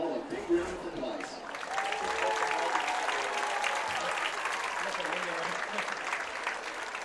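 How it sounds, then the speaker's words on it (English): Crowd applause fills a high school football stadium at Pius X High School, a steady, dense clapping with cheers that swells quickly and carries on throughout, with an announcer's voice heard over it at the start. "Let's give them all a big round of applause."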